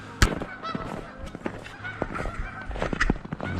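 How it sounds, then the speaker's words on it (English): Geese on a cold lake honk repeatedly in loud, uneven calls, several birds overlapping near and farther out, with faint rustling underneath. "Geese out there taking the cold water challenge"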